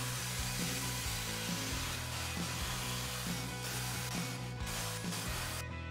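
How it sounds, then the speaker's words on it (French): A wire brush scrubs damaged underbody coating off a car's metal underside, a loud, continuous rasping with a steady repeating stroke rhythm, close up and with no talking. "Avec une brosse métallique et des lunettes de protection, je retire les parties abîmées pour refaire toute la protection plus tard."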